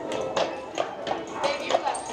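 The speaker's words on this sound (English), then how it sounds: "Do a little follow cam on the horse." Horse hooves clip-clop on Main Street at Disneyland in a steady walking rhythm, about seven hoof strikes, moderately near and clear within a busy crowd with people talking nearby.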